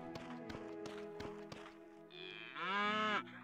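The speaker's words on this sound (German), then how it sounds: "Oh, Kühe. Voll süß." Cartoonish cows moo on a farm in the video game Potion Permit, a drawn-out bellow rising near the end after a run of rhythmic tapping footstep sounds and plucked notes.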